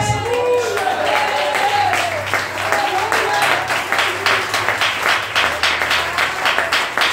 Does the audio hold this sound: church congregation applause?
yes